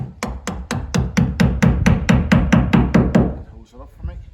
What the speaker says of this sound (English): So what I'm going to do now first is put a nail in the bottom.